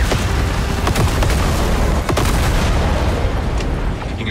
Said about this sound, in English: Picking up internal explosions.